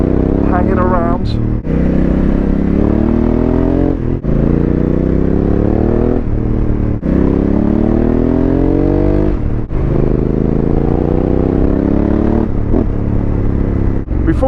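A Honda Africa Twin motorcycle ridden on a damp autumn road, its engine loud and close as it repeatedly climbs in pitch through the gears with brief dips at each shift, wind rushing steadily throughout.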